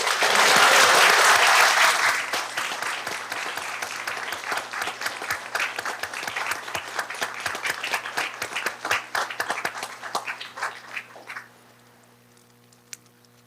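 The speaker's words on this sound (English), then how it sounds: "Okay, now we're ready to applaud." A board meeting audience applauds GED Spanish graduates, starting with a loud burst and thinning into scattered individual claps that fade away after about eleven seconds.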